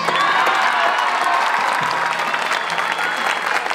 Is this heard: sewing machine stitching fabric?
no